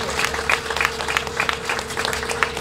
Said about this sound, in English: we just want to give you all a round of applause